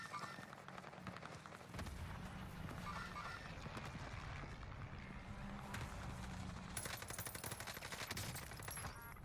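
Automatic weapon fire in Call of Duty Warzone on the Pacific map, steady rattling bursts running through the whole stretch, dense and fairly close, with heavier volleys near the end.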